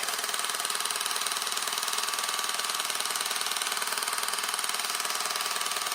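A GAINSWave treatment device runs with a steady, fast mechanical buzz that pulses evenly and continues unbroken and close for the whole stretch, with no talk over it.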